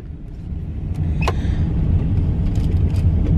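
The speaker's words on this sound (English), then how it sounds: "So we're in a taxi heading down 5th" A taxi drives down Fifth Avenue in New York, its engine and road noise forming a steady low rumble that swells slightly after the first second, with a brief faint squeak near the start and no talking.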